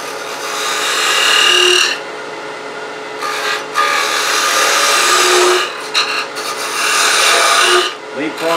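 A 1/8 inch parting tool cuts into wood spinning on a lathe, giving a loud, bright rasping hiss in several long bursts separated by short pauses.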